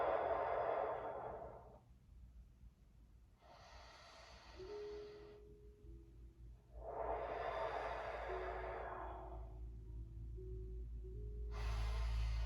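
Slow deep breaths in through the nose and out through the mouth during a seated stretching session, with two long rushing exhales alternating with quieter breathy inhales, close and alone.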